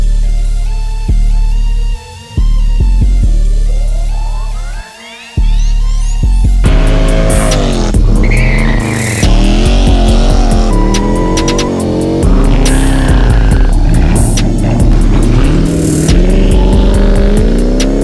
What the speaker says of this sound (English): So let's go ahead and get in the car, move it out here.